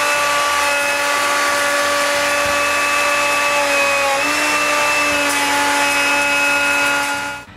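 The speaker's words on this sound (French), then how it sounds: "Je peux maintenant faire une feuillure d'1 demi-pouce autour des ouvertures des vitres." A router cuts a half-inch rabbet around the glass openings of a wooden workshop door, a loud, steady high-pitched motor whine with a slight drop in pitch partway through as the bit loads, continuous until it cuts out at the end.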